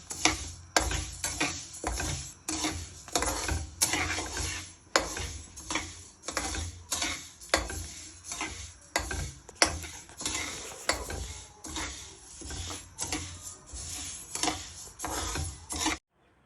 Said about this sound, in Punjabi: ਅਸੀਂ ਜਮਾ ਨੂੰ ਚੰਗੀ ਤਰ੍ਹਾਂ ਭੁੰਨ ਲਿਆ ਹੈ